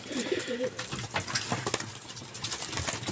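A red bar racing pigeon coos softly among other birds, low throaty coos near the start over a busy background of rustling, faint calls and wing flutters, with no speech.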